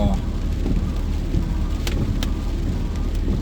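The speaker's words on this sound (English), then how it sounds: "pretty heavy rain, so you're going to get some." Heavy rain drumming on a car driving through a summer storm on Highway 38 in the forest near Angelus Oaks, a steady dense wash over low road rumble with a couple of brief sharp bursts.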